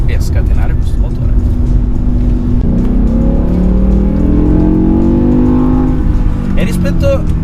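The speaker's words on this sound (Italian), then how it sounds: "adesso stiamo andando a cercare qualche strada un po' più libera e a scatenare questo motore" A 6-speed manual BMW M5 E60 with a naturally aspirated V10 revs up, a rising, layered engine howl building through the middle and ending in a dense, loud cabin drone.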